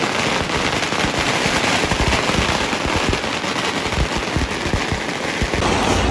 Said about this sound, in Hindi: ये ड्रैगन अब जहाँ जहाँ पर जाएगा वहाँ पर ये पटाखे साथ